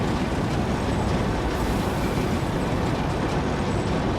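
A train runs in the video game Demo Friend, producing a loud, continuous rumbling roar that holds steady with no pauses.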